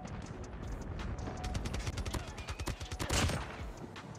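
Rapid bursts of gunfire from Call of Duty Mobile crackle through most of the stretch, growing denser and louder toward the end, with faint voices underneath.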